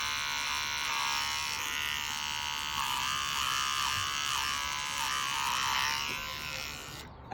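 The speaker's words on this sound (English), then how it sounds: "Again, probably better with the clipper." Electric clipper trimming the hair on a Gordon setter's feet, a close, steady high buzz that holds evenly for about seven seconds before cutting off, with no talking.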